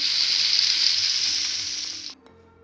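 Food fries in a pan with a loud, bright, hissing sizzle that holds steady for about two seconds, then cuts off abruptly, leaving faint background noise.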